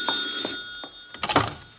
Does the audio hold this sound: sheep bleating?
no